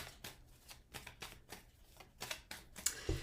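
Tarot cards are riffled and shuffled in quick, soft bursts, close and fairly quiet, with a few sharper taps near the end.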